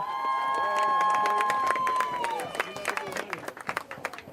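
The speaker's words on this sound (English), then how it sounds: "Please give a round of applause and our deepest appreciation for Mr. Andy Montserrat" A crowd at a high school football game, SSFHS vs Leland HS, breaks into applause after a public-address voice finishes speaking, a dense patter of clapping near and far.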